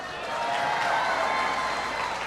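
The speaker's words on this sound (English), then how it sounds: "Give everybody a round of applause" Guests at a Costa Mesa, California town hall get steady applause from the audience, a dense wash of clapping that holds evenly for a couple of seconds.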